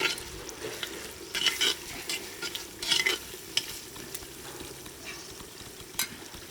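Spices for a spicy Indian-style lamb potjiekos sizzle steadily in the pot, a constant close frying hiss broken by a few brief stirring scrapes and clinks, with no talk.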